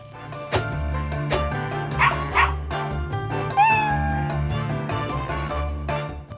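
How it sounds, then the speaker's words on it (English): Puppy yips and whimpers mix with a kitten's meows, a few short high cries rising over a steady musical backing. "Would you rather play with 10 puppies? Aww. Or would you rather play with 10 kittens?"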